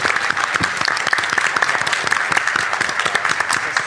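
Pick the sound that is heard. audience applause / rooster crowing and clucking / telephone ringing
audience applause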